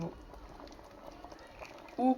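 Kidney stew with tomato paste and added water bubbles gently in a covered saucepan, a steady soft simmering and popping over the whole stretch, with a brief louder sound at the very end.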